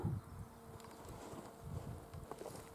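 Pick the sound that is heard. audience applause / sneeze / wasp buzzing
wasp buzzing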